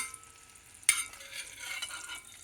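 Eggs sizzle and fry in a pan in a quiet kitchen, a sudden scrape or stir near the start followed by a soft, steady crackle of hot oil.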